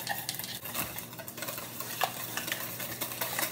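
Brownie batter of butter, vanilla and eggs is stirred in a bowl, producing a dense, continuous scraping and swishing with light utensil knocks against the sides, close and steady throughout.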